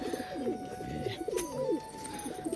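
Domestic pigeons in cages coo in soft, rolling low calls, several overlapping nearby, with faint background hum and no talking.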